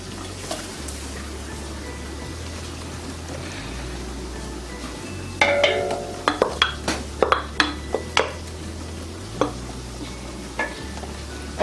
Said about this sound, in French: Maintenant, je vais mettre l'oignon.